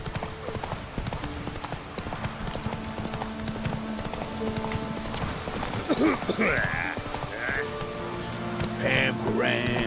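Roach, the horse in The Witcher 3 video game, trots with a steady, close clip-clop of hooves, mixed with game music and a voice talking over it.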